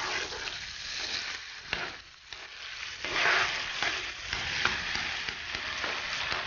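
Meat frying in a pan sizzles as meat stock is poured in, a continuous moderate hiss that swells for a moment after the liquid hits the hot pan.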